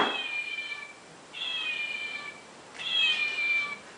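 A voice imitates a cat meowing, three drawn-out nasal meows spaced about a second apart, each one clear and fairly loud, with no other talk.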